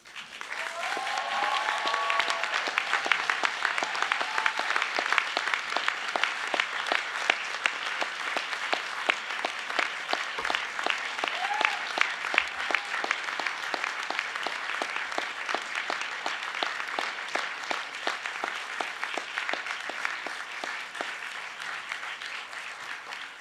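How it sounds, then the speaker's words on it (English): Sustained loud applause from a large crowd at a university graduation ceremony, dense clapping continuing steadily throughout with no talking over it. "give them a rousing round of applause"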